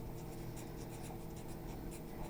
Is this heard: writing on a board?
yes